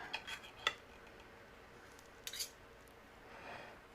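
Knife and fork clinking against a plate while cutting food, a few sharp metallic taps early on and another small cluster midway, close and fairly quiet with no talking.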